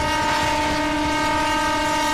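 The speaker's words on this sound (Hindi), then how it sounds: "गार्ड के केबिन में जाके हॉर्न बजा के आते हैं।" EMU local train horn sounding from the guard's cabin in the Open Rails simulator on the Sealdah–Dankuni route, a steady sustained multi-tone blast held loud and unbroken throughout.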